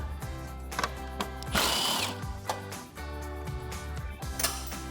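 Ratchet with a 10mm socket on an extension backing out grille bolts on a 2014-2015 Chevrolet Silverado 1500, a close, busy series of clicking and whirring mechanical bursts with a brief louder rush near the middle.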